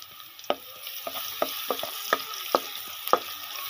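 Garlic ginger paste frying in a pot with lightly browned onions for aloo ki handi, a soft steady sizzle broken by repeated clicks and scrapes of a spoon stirring.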